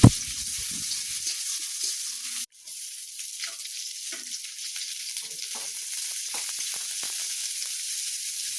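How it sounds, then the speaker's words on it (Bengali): Chopped garlic and onion fry in oil in a wok after a tempering of dried red chili, bay leaf and whole cumin, giving a steady loud sizzle with a brief stirring clatter near the start and a short break partway through. "কড়াইয়ে তেল দিয়ে তার মধ্যে শুকনো লঙ্কা, তেজপাতা, গোটা জিরে ফোড়ন দিয়ে একটু নাড়াচাড়া করে নিয়ে এর মধ্যে রসুন কুচি, পেঁয়াজ কুচি দিয়ে একটু ভাজা ভাজা করে নিতে হবে"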